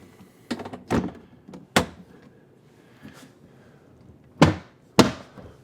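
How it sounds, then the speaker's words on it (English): A repaired wooden cabinet door is fitted back onto its cabinet, giving a series of sharp close knocks and thunks spaced irregularly, with quiet handling noise between them. "Let's pop the door back on."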